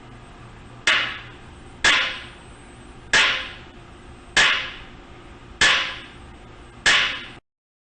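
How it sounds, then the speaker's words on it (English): Six evenly spaced strikes of a ball-peen hammer on an aluminum block, each a sharp ringing impact that decays over about half a second, loud and close in a quiet room. "This is now the sound of a ball-peen hammer striking an aluminum block."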